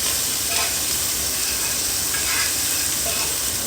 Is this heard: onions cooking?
yes